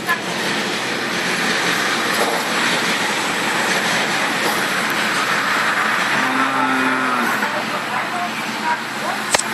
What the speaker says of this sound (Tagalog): May train ulit.